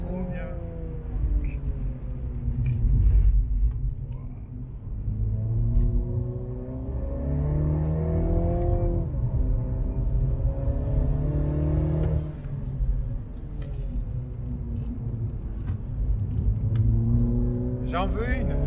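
Inside a Mini John Cooper Works GP lapping the Nogaro circuit, the engine rumbles and rises and falls through repeated rising gear pulls and shifts, loud and continuous, with people talking over it.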